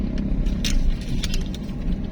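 Road traffic near a dam in Arayat, Pampanga: a steady low rumble of cars passing close by, with a few faint rattles and clinks above it and no talk.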